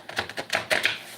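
Tarot cards shuffled by hand: a quick series of crisp papery riffles and slaps, about half a dozen brief bursts close up.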